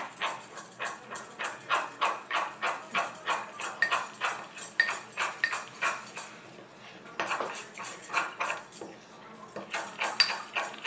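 Sourdough starter with honey and sugar is stirred in a container, a regular, rhythmic scraping and clinking of a utensil, about two strokes a second, close and fairly quiet, with a brief pause midway.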